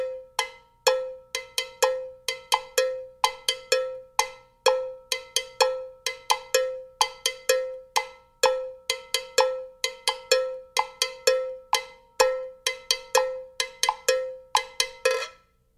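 A Latin cowbell plays a repeating clave-based groove of sharp, close strikes that alternate open and muted tones in a driving syncopated rhythm, played alone throughout.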